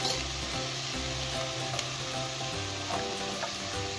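Ground garlic sizzles and fries steadily in a hot pan while fish is prepared en escabeche with peppers, a continuous crackling hiss with occasional stirring, close and alone.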